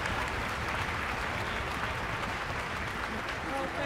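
Steady, dense applause from a concert audience at a Philadelphia high school music festival, honoring the host; the clapping stays loud and even throughout, with a voice faintly underneath.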